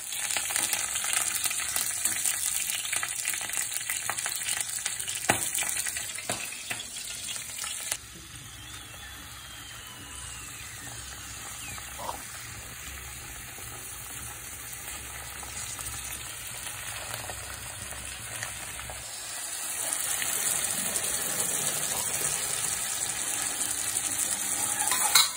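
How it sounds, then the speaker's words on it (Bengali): Chopped garlic sizzles in a pan, a steady bright crackling hiss that carries on for the whole stretch, with occasional stirring scrapes and clinks and no talking. "রসুন কুচিটা ফ্রাই হচ্ছে, দেখুন।"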